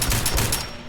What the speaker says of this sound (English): But this has got that unique little 4-round burst.